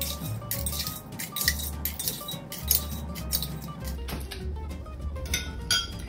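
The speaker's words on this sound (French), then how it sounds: "on va remplir son verre de glace pilée" Crushed ice tumbling into a copper mule glass for a Moscow Mule, a run of close, bright clinks and gritty rattles over a steady low hum, with no voices.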